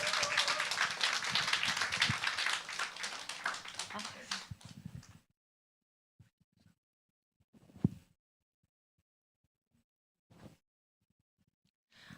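Audience applause at a Korean healing lecture event, a dense burst of clapping for about five seconds that stops abruptly, followed by quiet with a few faint taps and rustles.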